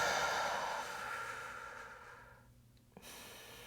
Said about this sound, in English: From this position, nice long exhale.